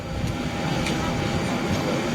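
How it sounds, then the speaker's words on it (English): Jet engines of a Eurowings Airbus A330, GE or Pratt & Whitney powered, at Dusseldorf airport, a steady close rumbling roar throughout the brief moment. "the GE or the Pratt & Whitney power plant on the Eurowings 330"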